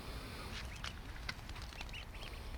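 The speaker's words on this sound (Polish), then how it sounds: "Rybki nie chcą zanęty, ale kaczuszki chcą, widzisz." Ducks at a lake, coming in for scattered groundbait, give several faint, scattered quacks over low background rumble with no talking.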